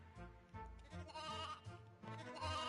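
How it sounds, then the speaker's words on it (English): Little sheep from the Toy Story 2 Buzz Lightyear to the Rescue video game give a run of repeated close bleats in quick succession, alone with no talk. "It's Bo Peep's little sheep."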